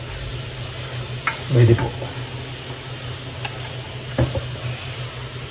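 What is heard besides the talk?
sautéing ginger, onion and garlic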